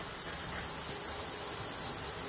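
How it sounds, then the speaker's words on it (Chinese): A hotel shower head in Japan sprays water in a steady, even hiss that runs unbroken throughout, close and fairly loud with no voices over it. "就花洒出水"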